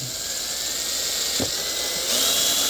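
A small drill whines steadily as it bores the hole for the stuffing tube in the hull of a 51-inch TFL Ariane twin brushless RC boat. The pitch rises briefly near the end, with no talking.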